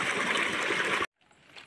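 Water pours steadily into a household tank, a continuous gushing rush that stops abruptly after about a second, leaving a faint quiet trickle and room noise.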